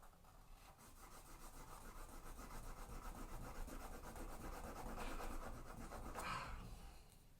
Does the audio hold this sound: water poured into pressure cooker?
no